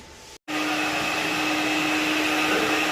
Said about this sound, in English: the extractor used with the new cordless sander